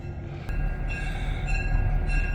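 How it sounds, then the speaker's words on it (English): A Heber Valley Railroad train pulls into a station, with a steady low rumble and a sharp click near the start, then a brighter ringing tone over the running noise, heard alone without talk. "Heber Valley train coming into the station."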